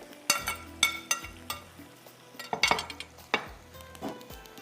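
Chopped onions tipped into tomatoes in a hot pan for fried cauliflower masala, with a spoon stirring and clinking against the pan over a steady sizzle in quick, irregular scrapes.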